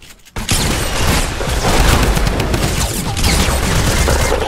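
In a shooter video game, an RPG rocket launcher fires amid a dense barrage of explosions and gunfire, loud and continuous with sharp bursts over a rumbling background.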